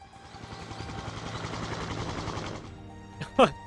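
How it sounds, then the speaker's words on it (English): A private helicopter takes off in the Umamusume video game, a dense rotor whir and roar that builds for about two and a half seconds and then cuts off, followed by a short sharp synthetic chime. "So Director Kikoa takes off into the sky in her private helicopter."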